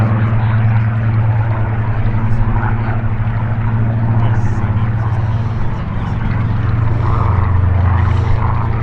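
Warbird aircraft of the Flying Bulls display team break overhead to land at a UK airshow, a loud continuous propeller-engine drone that holds steady with slight swells, with crowd noise and voices beneath.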